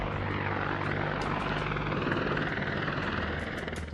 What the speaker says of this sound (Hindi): चिनूक, अपाचे, चेतक, चीता जैसे हेलीकॉप्टर से मुश्किल हालात, खराब मौसम के बावजूद एयरफोर्स के एयर वॉरियर इन मिशन में लगातार लगे रहते हैं।